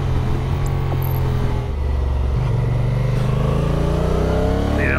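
A 2022 Honda NT1100 motorcycle engine pulls hard and revs up while riding, a loud steady drone rising in pitch over wind rush, with a gear change partway through.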